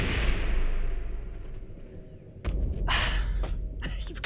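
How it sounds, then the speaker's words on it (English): Video game explosions and gunfire in Totally Accurate Battlegrounds: a loud blast that fades out, then a sharp burst of close shots and crackling impacts after a brief lull. "Since when do explosions go through walls?"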